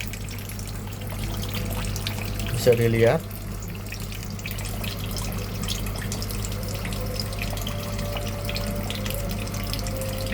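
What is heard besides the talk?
water filling a Sharp ES-M7000P-GG washing machine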